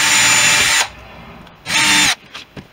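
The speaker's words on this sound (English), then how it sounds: "I'm going to back drill that through the frame" A power drill back-drills a hole through the frame while new side windows are fitted to a Sherwood Kub, two loud close bursts of steady whirring separated by a pause, followed by a few light handling knocks.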